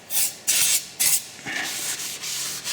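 A rag wiping a brake disc clean with brake cleaner: five or six quick, close rubbing strokes in an uneven rhythm, each a short bright swish.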